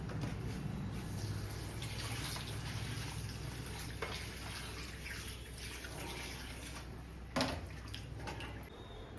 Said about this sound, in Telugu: ఫస్ట్ చికెన్ అయితే వాష్ చేసుకుందాం.